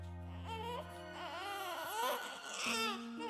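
A baby cries in a few rising, wavering wails with short whimpering breaks, close and clear, with no other voices.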